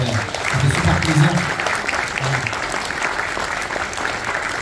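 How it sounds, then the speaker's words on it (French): A convention audience applauds steadily and fairly loudly, with a few voices heard in the crowd at the start. "j'aimerais qu'on l'applaudisse, s'il vous plaît"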